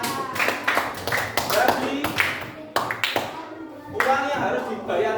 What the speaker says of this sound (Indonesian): Oke, tepuk tangan untuk teman kita.